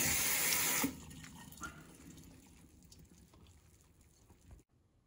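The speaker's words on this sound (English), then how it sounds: "I'm just rinsing off all of the gunk that comes with them in the cans." Canned chickpeas rinsed under a running kitchen tap, a loud gush of water for about a second, then quieter splashing and dripping as they are shaken in the sink, ending in near silence.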